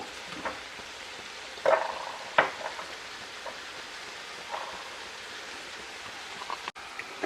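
Pumpkin pickle with a pinch of ground cumin is stirred in a pan: a soft, low sizzling hiss runs throughout, with a few sharper scraping taps of the spoon against the pan, close and quiet.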